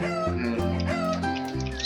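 Chickens in the video game No Place Like Home cluck continuously over steady game music, several birds close together in a brief stretch.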